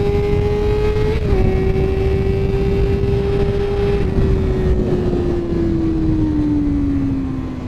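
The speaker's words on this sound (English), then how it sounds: "You're meant to just drop 2 gears and just put your throttle down and go for it" A Suzuki GSF250V Bandit with a 250cc inline-four engine holds a loud, steady high-pitched whine close by, its pitch dipping briefly at a gear change and then easing downward as it fades slightly near the end.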